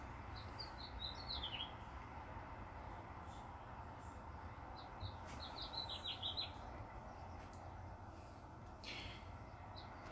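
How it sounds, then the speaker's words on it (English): Small birds nesting on a second-floor windowsill chirp in short, high bursts of tweets, faint and somewhat distant over a steady low background hum, with no talking. "And birds like to nest in my windowsill."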